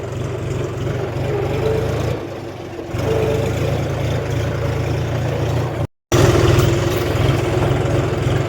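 A tractor engine runs at a steady, loud idle-like drone close by, with a brief drop in pitch partway and a short cut near the end; no talking.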